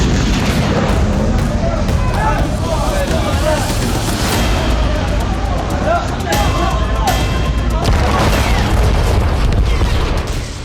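Tank guns firing in Gaza during heavy bombardment, a dense, continuous rumble of booms and blasts with overlapping reports, loud throughout and cluttered with background noise.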